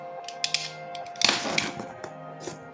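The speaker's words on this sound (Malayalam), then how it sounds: "അപ്പോൾ നമ്മളിത് അൺബോക്സ് ചെയ്യാൻ പോവാണ്." A Logitech C270 webcam package is opened, with clicks, snaps and a rustling, tearing burst of cardboard and plastic handled up close over a faint steady background hum.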